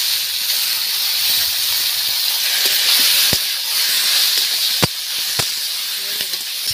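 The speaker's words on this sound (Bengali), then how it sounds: "কচুর লতি তুলে দিচ্ছি" Taro stolons hit hot oil left from frying prawns, seasoned with nigella seeds and chopped green chilli, giving a loud continuous hiss of sizzling with a few sharp crackles and pops.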